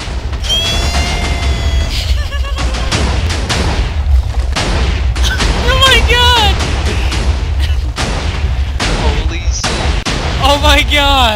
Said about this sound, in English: There was so much explosion! It's still going!